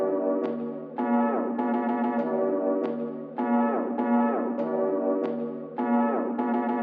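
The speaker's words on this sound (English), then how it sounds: "So I took this little pad part and just transposed it a few times and did little tape stops" A transposed synth pad part repeats in sustained chords, broken up by short tape-stop pitch drops that leave brief gaps and restarts. It plays alone at a steady, fairly full level, with no talking.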